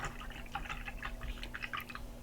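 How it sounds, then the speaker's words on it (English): A paintbrush is swished and rinsed in a water cup during an art session, giving soft, continuous splashing and dripping close by, with a low steady hum underneath. "Rinse your brush out."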